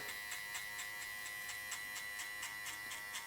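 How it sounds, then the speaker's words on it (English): An electric hair clipper buzzes steadily, close and fairly quiet, while fading thick hair upward, with a faint regular ticking pulse as the blades work through the hair. "now we're gonna go in and start fading upwards with our clip"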